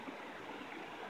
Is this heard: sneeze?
no